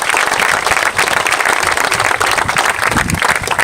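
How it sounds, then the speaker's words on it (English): Crowd at a candlelight vigil in Memorial Park breaking into loud, dense applause, steady clapping from many hands filling the space without pause, close and sustained. "Let's give them all a big round of applause."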